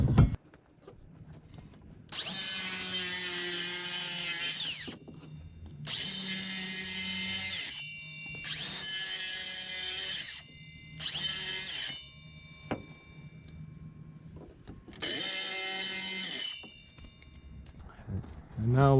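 A power saw cuts wood for a deck railing in five loud, separate bursts, each a few seconds long, with quiet gaps and occasional talk between cuts.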